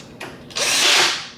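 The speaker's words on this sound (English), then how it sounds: "I'll go ahead and put the screws back in the lower plate" A power screwdriver drives screws back into the lower plate of a Better Packages BP555e gummed tape dispenser, giving a short click and then a loud rising whir that holds for under a second and tails off.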